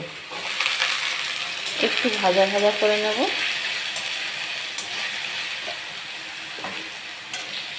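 Cut potatoes are added to a pan: a brief burst of sizzling frying around two seconds in, with metallic scraping, then fading to a low steady hiss of cooking.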